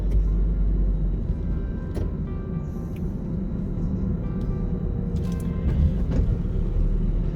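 Inside a car on the road, a constant low rumble of engine and road noise carries on steadily, with a few faint clicks and knocks inside the cabin.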